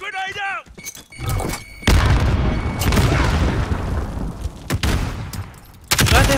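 A grenade explodes in Call of Duty: Modern Warfare Warzone, landing as a loud, close boom whose rumble rolls on for seconds among scattered gunshots, with talk at the start and brief shouts later.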